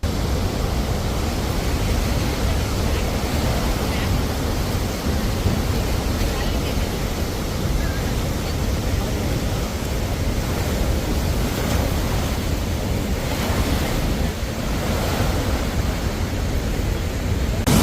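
Rushing river water pours out through ten lifted gates of the Jurala dam project during a flood, a steady, dense broadband roar that holds constant throughout without pause.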